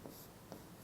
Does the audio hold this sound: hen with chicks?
no